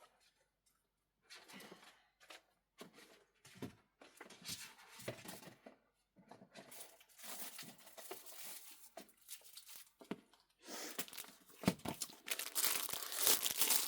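Paper envelopes are handled nearby in irregular bursts of crinkling and rustling, with scattered soft taps and quiet gaps at first, growing busier and louder toward the end.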